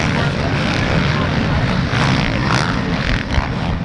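Motocross bikes racing at Fox Raceway, a pair of blue bikes among them, make a dense, loud, continuous engine roar that holds steady throughout the short stretch without easing.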